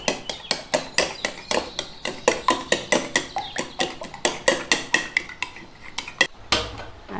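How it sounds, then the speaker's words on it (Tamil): Two eggs beaten in a bowl for egg nuggets with a utensil, giving a fast, steady run of sharp clinking strokes against the bowl, close and loud with no voices. The rhythm breaks briefly near the end, then the strokes pick up again. "ரெண்டு முட்டை எடுத்திருக்கேன். இப்போ அதை அடித்து எடுத்துக்கலாம்."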